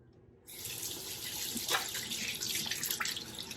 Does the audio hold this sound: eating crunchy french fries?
no